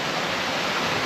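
A waterfall on a hill walk in the Peak District near Alport Castles, heard as a dense, steady rushing roar of falling water close by, with no voices.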